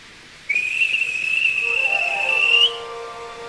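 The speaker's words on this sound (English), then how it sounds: "At last, the guard blew his whistle." A railway guard's whistle sounds one long, steady shrill blast that holds for about two seconds and rises slightly at the end, loud and alone, with a lower tone joining briefly near its close.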